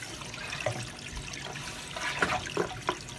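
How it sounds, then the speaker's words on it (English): Water in a pool sand filter sloshes and gurgles as a wand stirs it, soft churning with a few brief splashy bursts at close range. "try to move the wand around a little bit here to stir this up a little bit more"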